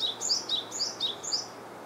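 Near cherry trees in full bloom, a small songbird repeats a bright, high two-note whistle about five times in quick succession, clear and fairly close over a quiet background.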